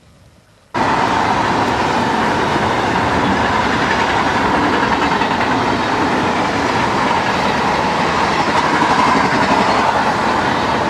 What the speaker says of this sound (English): just saw this freight train going past